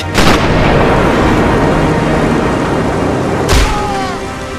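Sniper rifle shots in Sniper Elite, a loud sharp crack at the start and another near the end, each leaving a rolling boom over a constant low ambient rumble.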